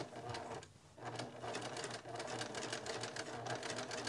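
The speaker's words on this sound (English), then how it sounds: "we're going to stitch right along here in this ditch" A sewing machine stitches in the ditch along the seam of a mitered quilt binding, running in a steady, close mechanical whir with rapid needle ticking and a brief slowdown near the start before carrying on continuously.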